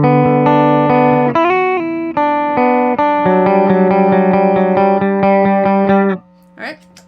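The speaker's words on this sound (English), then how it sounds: "So here is what my clean signal sounds like." Clean electric guitar played through a Walrus Audio R1 reverb pedal with mix and decay at midpoint: sustained chords, then a steady run of repeated plucked notes, ending with a lingering reverb tail and a brief faint noise.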